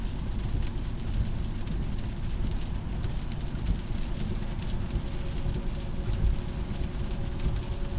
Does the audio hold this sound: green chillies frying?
no